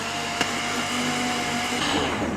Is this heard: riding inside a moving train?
no